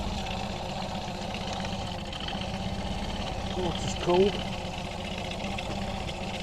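An outboard boat engine idles with a steady low rumble throughout, its exhaust pumping water, while a voice briefly speaks over it.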